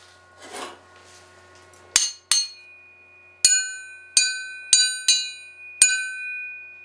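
Hammer blows on a welded multi-layer damascus steel billet, seven sharp metallic strikes at uneven intervals, each leaving a clear sustained ring that decays slowly, preceded by a brief softer rustle.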